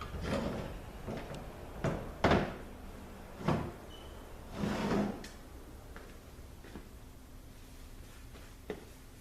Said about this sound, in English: take the bolts out, and slide that B2